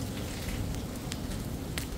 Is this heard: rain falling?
yes